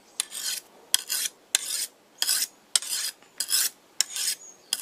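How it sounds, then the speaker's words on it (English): A sickle blade being sharpened by hand, about seven or eight evenly spaced rasping strokes of a sharpening stone along the steel, close and crisp with short quiet gaps, no voices. "sharpen down there, and then take the burr off on the other side."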